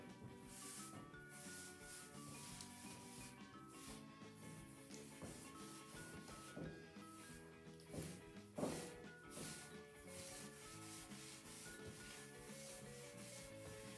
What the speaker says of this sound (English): I'm just gonna sand this little bit here